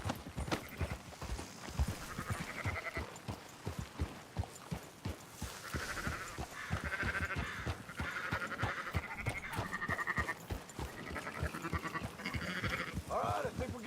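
Sheep bleat repeatedly in Red Dead Redemption 2 while a herd is driven along, mixed with clip-clopping hooves and occasional talk, the bleats fairly close and frequent over a busy ranch-like background.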